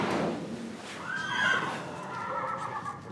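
A horse whinnies loudly and close, a long rising then falling neigh over steady background noise at a veterinary emergency setting.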